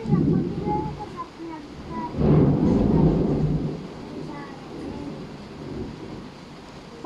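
A low, distant rumble of thunder swells and fades amid steady outdoor background noise.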